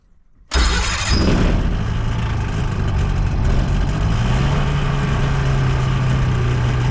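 A small propeller aircraft engine bursts into life after a moment of quiet, then holds a loud, close, steady idle with a low droning rumble, outdoors on a windy day.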